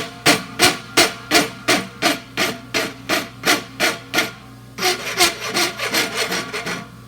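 A farrier's rasp files the edge of a horse's hoof in steady, rhythmic strokes, a dozen even scrapes followed by a faster run, loud and close with no talking.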